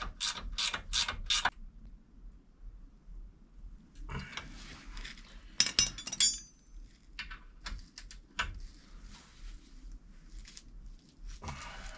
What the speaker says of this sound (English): I can promise you I never get the ratcheting wrench going the right direction the first time.